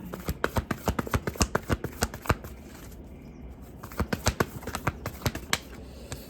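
A deck of tarot cards is shuffled by hand in quick, crisp riffling bursts, a rapid run of flicks, a short pause, then another run, close and fairly quiet.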